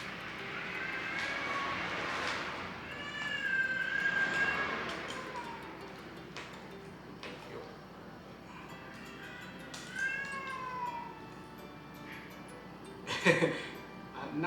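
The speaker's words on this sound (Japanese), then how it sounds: "なんか猫が鳴いてる感じですけど、うちの子が鳴いてます。" A small child of almost two cries in high, wavering cat-like wails, two long bouts and a brief cry near the end, close by at an outdoor campfire cooking spot with faint background hum.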